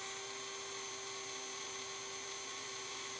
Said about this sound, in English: I finish it off with the tool post grinder.